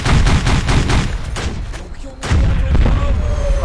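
Heavy video-game gunfire in a Pacific war battle, dense rapid volleys of loud shots with booming impacts, a brief lull, then renewed bursts.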